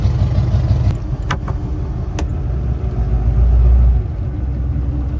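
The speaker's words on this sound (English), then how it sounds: "Engine is running again." A sailboat's engine running again after troubleshooting, giving a steady low rumble with a few faint clicks over it and a slight swell in loudness near the end.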